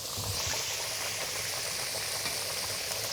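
U13-15 shrimp searing in olive oil in a hot pan, a steady, even sizzle of spitting oil with fine crackles, continuous and fairly close, with no talking.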